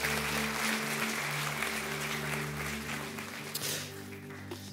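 A church congregation applauds in a sustained, dense wash of clapping under steady music or organ tones, loud and continuous with no clear break.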